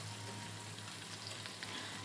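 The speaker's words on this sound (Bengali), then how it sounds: "মাছটা হালকাই ভাজতে হবে।" Fish frying lightly in a pan, a steady soft sizzle and crackle with faint pops, close and continuous with no talk.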